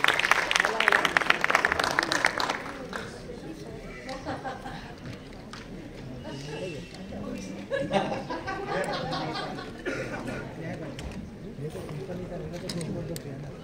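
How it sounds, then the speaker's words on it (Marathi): A crowd at a Marathi film trailer launch claps loudly and briskly for a couple of seconds, then the applause thins to scattered clapping beneath talk and chuckles that continue over the rest. "एकदा जोरदार टाळ्या त्यांच्यासाठी."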